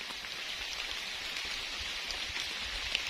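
Steady rain falls through a forest, a dense even hiss of drops on leaves and ground, continuous and fairly close with no voices.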